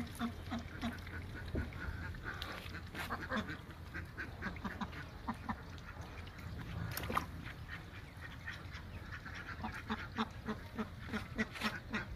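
A flock of meat-breed ducks on a farm quacks continuously, some calls nearer and louder than others, with occasional honking mixed in.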